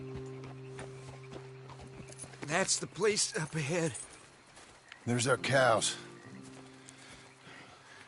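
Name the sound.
horses walking in video game Red Dead Redemption 2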